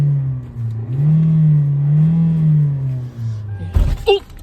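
A 2016 Hyundai Elantra 1.8 with a faulty transmission, engine droning and revving steadily in drive without engaging a gear, its pitch rising and falling, before a sharp clunk near the end.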